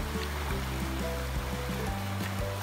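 A forest stream in a nature reserve flows with a continuous rushing, burbling wash, steady and moderately close, with no voices.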